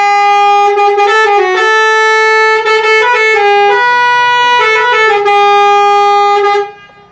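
A tourist bus's loud musical multi-tone horn blares right up close, playing a melodic sequence of sustained pitches with short breaks for about six and a half seconds, alone without talk.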